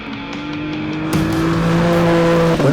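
Race car running Michelin Pilot Sport GT slick racing tires on a road course, a steady loud engine drone with a sharp rise in pitch and intensity partway through, close and continuous with no talk.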